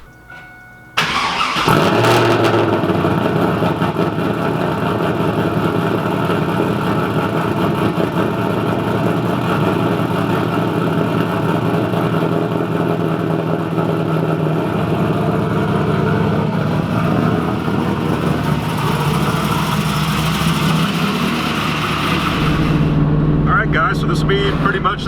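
A Pontiac Trans Am WS6 idles steadily while warming up, a continuous close engine rumble that holds for the whole stretch, with a voice talking over it in places.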